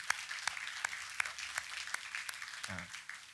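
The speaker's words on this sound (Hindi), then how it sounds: "हम तालियों के साथ इनका स्वागत करेंगे" A church congregation claps to welcome first-time visitors at a Hindi service, scattered individual claps standing out sharply over a soft, sparse patter, fairly quiet and brief.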